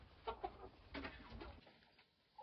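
Roosters in a farmyard give a few soft, distant clucks and coos in short bursts against quiet background noise.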